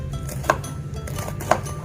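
A knife chops cabbage leaves on a board for bakwan fritters, two crisp distinct strikes about a second apart over a low steady kitchen hum.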